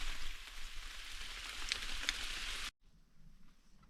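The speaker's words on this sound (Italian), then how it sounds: "E ovviamente non poteva che farci compagnia la pioggia." Rain falling outdoors at a field site, a soft steady patter with a couple of sharper drop hits, cutting off abruptly to a quieter hush near the end.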